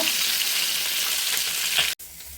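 Pabda fish, rubbed with turmeric, frying in hot oil one piece at a time for a mustard-poppy seed curry, giving a steady loud sizzle with a brief drop near the end.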